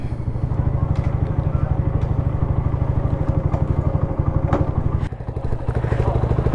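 A motorcycle fitted with an Akrapovic exhaust, silencer and dB killer idles close by with a steady, even low thump that dips briefly once before settling back into the same rhythm.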